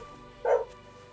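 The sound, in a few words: neighbor's dog barking outside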